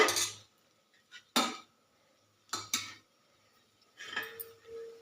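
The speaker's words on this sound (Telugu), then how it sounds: "మూత పెట్టేస్తాను" A lid goes onto a frying pan of okra frying with garlic and chilli, with several separate metallic clanks and rattles, spaced apart, each loud and close, with quiet gaps between.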